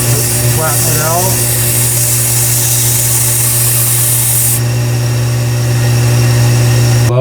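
A Kalamazoo 1x42 belt sander runs at a steady motor hum with a whirring belt, loud and close, while a voice talks briefly near the start.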